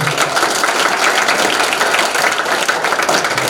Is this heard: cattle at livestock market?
no